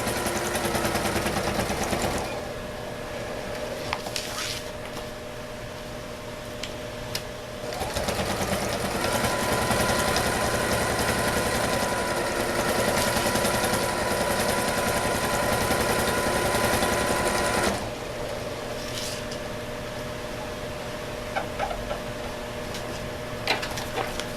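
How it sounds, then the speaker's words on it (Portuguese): A sewing machine runs a straight topstitch on twill fabric at stitch setting 13 with the needle set fully right, whirring loudly and continuously in long runs with a brief pause and a quieter tail near the end. "Eu vou passar uma costurinha reta, como a gente fez ali no fundo do bolso, como um pesponto"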